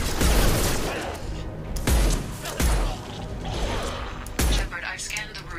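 Four heavy, booming hand cannon shots in the video game Mass Effect 2, fired at uneven intervals, each a loud punchy blast, with mechanical clatter and rumble between them.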